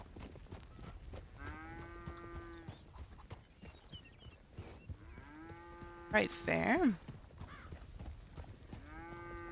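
Herded cattle moo in a ranching video game, several drawn-out low calls spaced apart with hooves clopping beneath, and a person briefly speaks amid them.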